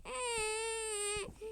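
A young child cries in one sustained, high, tonal wail that breaks off into a brief second sob, fairly faint and heard alone.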